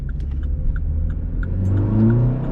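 A Vauxhall Corsa fitted with a performance air filter revs hard and pulls up through the gears, its engine roar and induction noise close and loud throughout, with no talking.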